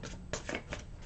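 A big, thick tarot deck gets a short hand shuffle, producing faint, close papery slaps and riffles in a few quick bursts with no talking.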